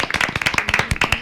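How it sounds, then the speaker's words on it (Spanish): Audience applause welcoming Pancho, a guest on a Saturday talk show about politics and elections; a steady run of sharp, close claps from a small group, fairly loud and even in rhythm. "Vamos a recibir a Pancho con un aplauso"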